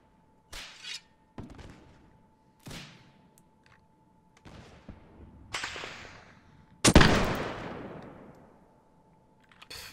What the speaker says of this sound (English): There's a few of them still shooting,